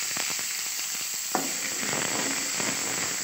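Small shallots dropped into hot oil in a pan for avul upma, bursting into a loud, close crackling sizzle that settles into steady frying, with a few light stirring scrapes.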